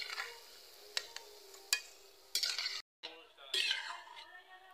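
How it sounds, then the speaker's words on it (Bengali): Potato gulgula fritters frying, with a light crackling sizzle broken by clinks and scrapes of a utensil against the pan, then a brief silence and renewed frying noise. "ভাজা হয়ে গেছে গুলগুলাগুলো, আমি এবার তুলে নিচ্ছি। এইভাবে সবগুলো আমি ভেজে নিচ্ছি।"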